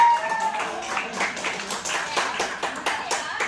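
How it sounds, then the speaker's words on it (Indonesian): A class of students in a classroom gives a round of scattered, uneven clapping for a classmate, fairly close and moderate in volume, with voices mixed in. "tepuk tangan dong buat Elda"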